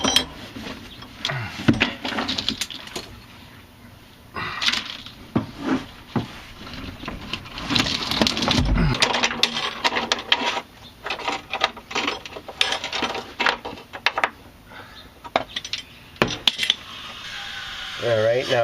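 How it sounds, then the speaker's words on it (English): Stock fuel tank on a Jeep Cherokee XJ is lowered out from under the vehicle, with scattered metallic clanks, scrapes and rattles at close range and no talking. "gas tank coming down"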